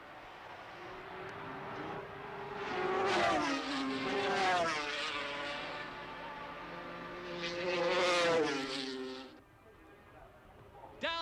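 Phil Reed's Kawasaki racing motorcycle lapping Oulton Park in a 1977 race, its engine note rising and falling through the gears as it passes, loud and sustained with a second surge later before fading, and commentary faint underneath.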